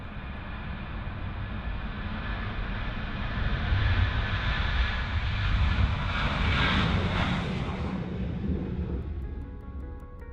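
A fixed-wing airplane approaches to land in a crosswind, its engine drone swelling as it nears, peaking loud, then fading slightly, with no voices.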